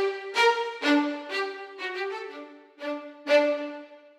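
Orchestral string section sample played through the Synchron Player with the Decca tree close-mic preset and reverb: a series of sustained, bowed harmonic chords entering one after another, moderately loud, with a soft reverberant tail and no talking.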